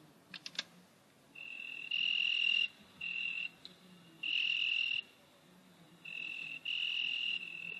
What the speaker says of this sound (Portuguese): Fica no ar a meditação dos grilos.